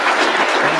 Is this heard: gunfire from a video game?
no